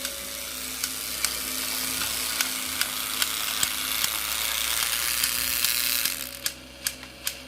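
Motor of a toy Stanley engine running with a steady mechanical whir and a fault, a clicking ratchet-like tick repeating roughly every half second, louder and more frequent near the end.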